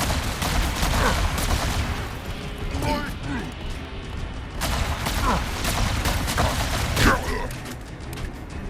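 Enemies firing guns in Halo: Campaign Evolved, with scattered shots and energy-weapon bursts over a constant loud rumble of combat noise, while voices speak at moments.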